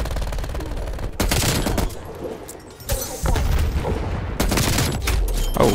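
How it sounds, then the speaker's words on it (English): M60 machine gun firing in a video game, giving loud sustained bursts of rapid gunfire broken by short gaps, with heavy booming impacts. "Shooting green bullets out this gun."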